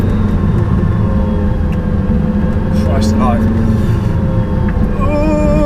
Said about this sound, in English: I know you probably want to listen to the engine more than me.